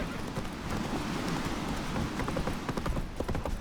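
Roach the horse gallops in The Witcher 3, hooves clip-clopping in a fast, dense, continuous rhythm close by, with a rain-like patter mixed in.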